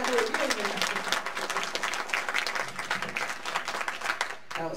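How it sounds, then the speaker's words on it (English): Crowd at a winter sports awards ceremony gives a round of applause for a councilwoman, sustained clapping with some cheering and voices mixed in, fairly steady and fading abruptly at the close. "Y'all give her a big round of applause."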